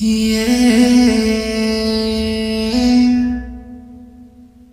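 A sustained sung voice with a long, washy reverb tail added in Audacity that lingers and fades out after the singing stops.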